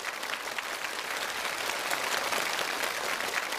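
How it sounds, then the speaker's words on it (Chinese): A TV studio audience applauds steadily after a contest of fast puzzle-cube solving, dense and even clapping from many hands that holds at one level for a few seconds with no voices over it. "再次掌声感谢5位"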